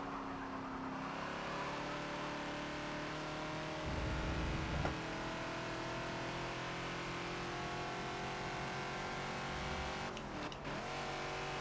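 A Ford Falcon XB engine revs hard at Silverstone in Forza, a steady, loud, droning roar with rising and falling pitch as the car accelerates out of slow corners and shifts gears, with no talk over it.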